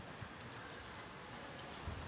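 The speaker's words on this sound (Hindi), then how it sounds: "आप देख सकते हैं एकदम से ज़ोर पकड़ा है बारिश ने" Heavy rain pouring down in Karachi, a dense, steady hiss of falling water that fills the whole moment evenly, with faint scattered drip taps and no voices.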